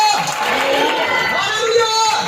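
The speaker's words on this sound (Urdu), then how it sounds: "آئیے خدا کے جلال کے لیے زوردار تالیاں" A church congregation applauds and cheers loudly and continuously, with raised voices and whoops mixed into the steady roar of the crowd.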